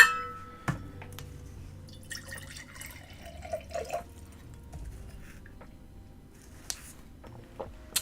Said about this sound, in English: Let's get some water going.